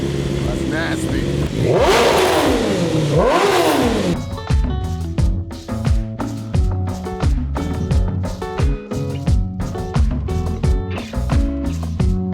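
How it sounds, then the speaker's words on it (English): A 2025 BMW S1000RR fitted with an Akrapovic exhaust snarls through two quick, loud revs close by, then gives way to rhythmic music for the rest of the stretch. "then we'll give you a sound clip of what it sounds like with the exhaust on."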